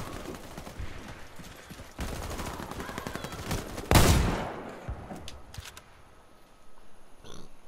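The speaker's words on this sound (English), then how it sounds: "I'm getting shot at." Sustained rattling gunfire in a Warface team deathmatch, near and fairly loud, peaking in a sharp blast midway before trailing off into scattered distant shots.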